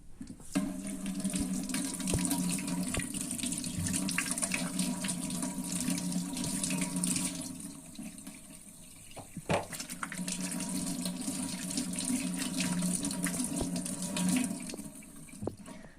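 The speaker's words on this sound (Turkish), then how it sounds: "Evet, patateslerimi soydum. Şimdi yıkayacağım." Tap water runs continuously into a sink while peeled potatoes are washed, a close, steady splashing stream with a brief dip in the middle before it resumes.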